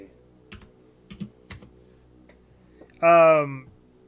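Keyboard keys tapped in a few scattered, separate clicks over a quiet background, followed by a short, loud voiced tone near the end.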